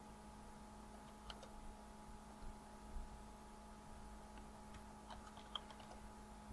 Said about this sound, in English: Okay, let's just type it out.